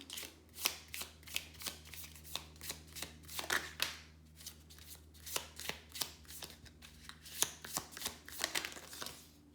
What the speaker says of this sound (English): probably need to shuffle again.